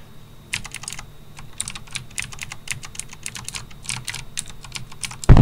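Keys on a computer keyboard tapped repeatedly during a game where the spacebar is held and released, a close run of irregular clicks, then a sudden loud thump at the very end.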